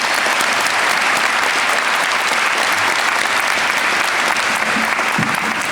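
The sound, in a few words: audience applause at a commencement ceremony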